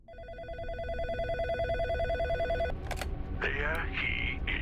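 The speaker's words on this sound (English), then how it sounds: "this is when the phone begins to ring" A telephone rings in the psychological horror game In Sound Mind, its repeated electronic bell pulses steady and fairly loud over a low ambient drone, then breaking off into brief chirps and tonal tones near the end.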